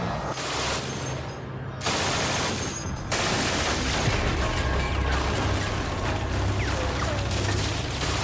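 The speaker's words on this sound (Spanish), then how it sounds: "La MG-42 era tan rápida que no se podían escuchar los disparos por separado." An MG-42 machine gun fires long, extremely rapid bursts, the shots blurring into a continuous tearing roar with a brief pause between bursts.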